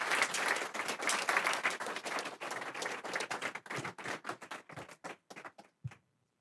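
Audience applause for a pitch presenter at a comedy pitch event: dense, sustained clapping that thins into scattered individual claps before stopping.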